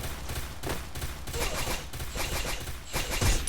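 Rapid bursts of video game gunfire in a 4v4 ranked match, fairly faint, with repeated volleys and short gaps between them.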